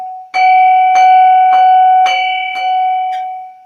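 Ritual dorje bell rung in a slow, steady rhythm, about six clear metallic strikes that each leave a bright, sustained ring, close and loud and fading at the end.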